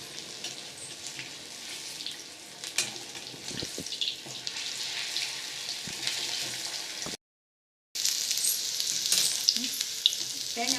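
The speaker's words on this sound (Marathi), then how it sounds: "आता तळून झालंय, आतमध्येपर्यंत तळून झालं एकदम." Chicken pieces deep-frying in hot oil for chilli chicken, a steady close sizzle and crackle running throughout with a brief cut of silence near the end.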